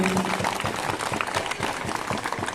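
Audience applause at a school annual sports meet, a steady wash of many hands clapping throughout, moderately loud, with no speech over it.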